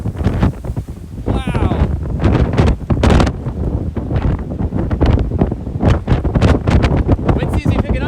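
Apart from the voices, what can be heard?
strong wind gusting by a frozen lake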